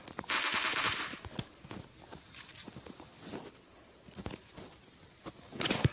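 Gunfire in PUBG's war mode: a loud burst of shots at the start, then scattered, softer pops and distant shots rattling at an uneven pace, with no voice.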